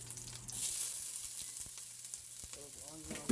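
Chopped medium onion sizzles in a pan over medium-high heat, a close, steady frying hiss with a few light stirring clatters and brief rustles near the end.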